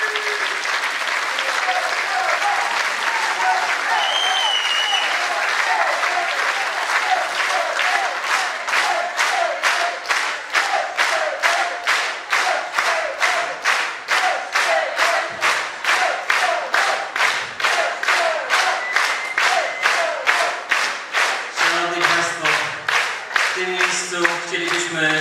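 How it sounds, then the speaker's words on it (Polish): A large audience at a jubilee dance gala applauds at length, dense clapping that gradually settles into loud synchronized rhythmic claps, with a voice briefly speaking near the end. "Wielkie brawa."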